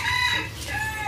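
Chickens cluck in a farmyard setting, with a rooster-like call close and fairly loud, a steady run of bird noise filling the short moment with no talking.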